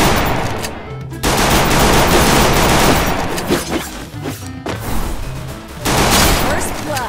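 Loud bursts of rapid automatic gunfire in a shooting video game, close and dense, broken by brief pauses between volleys, with a player's voice under the shots.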